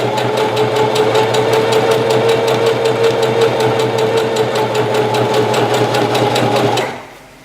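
Sewing machine running a zigzag stitch with the presser foot down, a steady fast mechanical whir with evenly pulsing needle strokes, loud and close, running without pause before stopping abruptly near the end.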